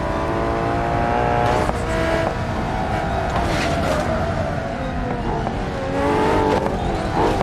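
Car engine in BeamNG.drive revving hard through rising and falling pitches, loud and close, with short tire squeals during a multiplayer police chase.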